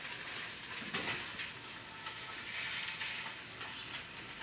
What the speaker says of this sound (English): So we can hear it sizzling right now, which means the pan was hot enough